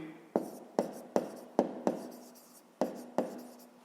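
Chalk or marker tapping and stroking on a board while a math solution is written out, about eight crisp strokes in an uneven rhythm, close and clear with no talking.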